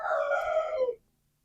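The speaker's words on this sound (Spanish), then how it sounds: "El gallo también está aquí en..." A rooster crows once, a near, fairly loud cock-a-doodle-doo that rises and then cuts off abruptly into quiet.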